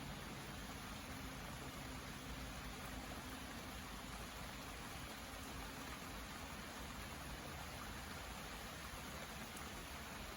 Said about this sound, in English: But just listen to that rain for a moment.